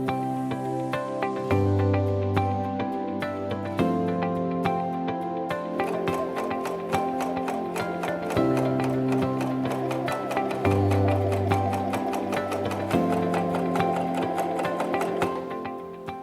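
A Janome 2000CPX coverstitch machine stitches a cuff on its free arm, with a fast, even mechanical ticking and a humming motor tone that shifts pitch in steps, running steadily close by.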